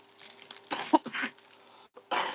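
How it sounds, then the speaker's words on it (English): Several rough, close coughs with some throat clearing come in short bursts, loud and dry, separated by brief pauses. "damn, I've been coughing too much recently"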